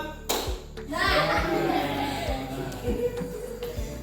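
Children clap together in short, rhythmic bursts during a classroom clapping chant, several distinct claps spaced across the moment while young voices chatter and call out.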